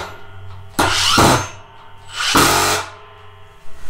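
A Milwaukee M18 Fuel 1/4-inch impact driver (2853-20) in auto mode drives a screw in two short, loud, hammering bursts separated by a brief pause.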